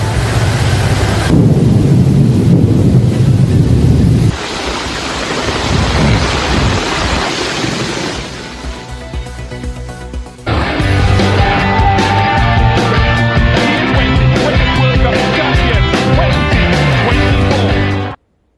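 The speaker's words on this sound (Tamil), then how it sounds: "குஜராத்தின் பல்வேறு பகுதிகளில் வெளுத்து வாங்கிய மழை" Heavy rain and thunderstorm across Gujarat, with water flooding the roads: loud rumbling thunder and roaring downpour come in several abrupt cuts, from deep booming bursts to hissing rain, with strong wind buffeting.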